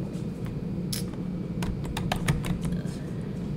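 Keys clacking on a computer keyboard while Windows 10 settings are searched, a quick irregular run of light taps over steady low background hum.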